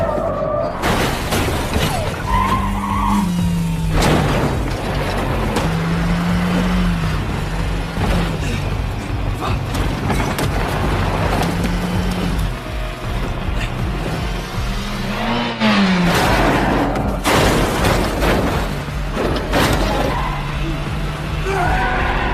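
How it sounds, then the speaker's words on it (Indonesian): A film car chase on a long, smooth European toll motorway brings revving engines, skidding tires and sharp shattering crashes, with tonal wails rising and falling throughout and a voice speaking at times. "Aksi tembak-tembakan dan kejar-kejaran mobil pun kembali tidak bisa dihindarkan"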